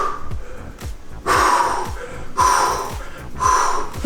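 Heavy, forceful breathing during a heavy shoulder exercise: three loud rhythmic exhalation bursts, each followed by a quieter inhale, with faint thuds of the weights in the background.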